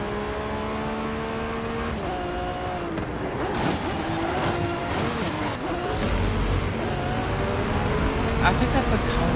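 A Koenigsegg Regera in Forza Horizon 5 drives with a steady high engine drone and shifting pitch, its tone dipping and climbing through gear changes while a person talks over it.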